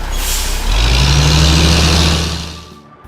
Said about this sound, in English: the flatbed truck brings the materials from far, far away